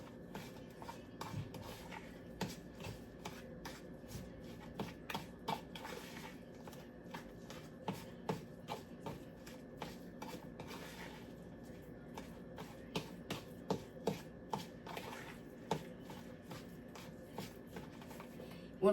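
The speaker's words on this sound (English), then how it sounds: "I'm going to mix all those ingredients up." Salmon slider mixture with dill being mixed in a bowl: soft, steady shuffling and squishing strokes in a regular rhythm, quiet and close, with no voices.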